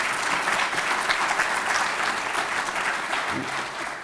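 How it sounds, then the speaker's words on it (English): An audience at a school district luncheon claps in a dense, steady wave of applause that holds strong for about four seconds and fades slightly at the end. "that deserves some applause"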